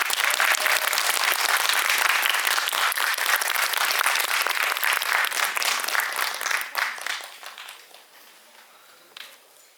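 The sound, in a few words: audience applause welcoming the guests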